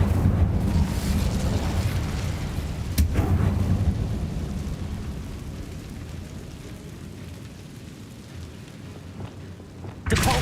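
Incendio fire spell blast in the Hogwarts Legacy video game, a loud whooshing burst that decays into a long rumbling roar, with a sharp crack near the start and another at the end.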